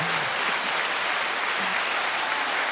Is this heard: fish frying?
no